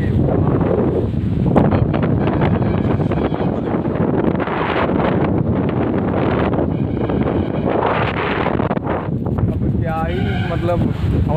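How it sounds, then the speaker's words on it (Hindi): Outdoor wind buffets a microphone among mango trees: a loud, steady low rumble that swells and drops throughout, with a person talking over it. "मतलब हवा चल रही बताऊ मैं ठंडी ठंडी मेरा आवाज भी नहीं आ रहा होगा जितना हवा चल रहा"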